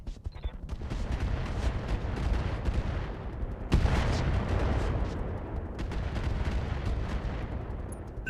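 Medium-range missiles firing in the Roguetech mech game, a long rapid volley of loud overlapping blasts and whooshes with a sharp bigger impact midway and steady heavy rumble.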